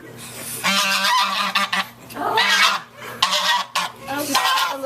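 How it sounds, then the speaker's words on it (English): Geese honk loudly and repeatedly at a small farm, harsh nasal calls coming in overlapping bursts close by, with brief pauses between volleys. "Geese with an attitude."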